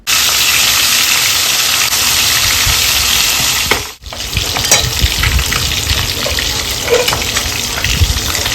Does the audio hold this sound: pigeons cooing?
no